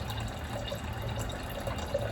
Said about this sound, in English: I'm gonna just pour this into here so I could pour it into the glass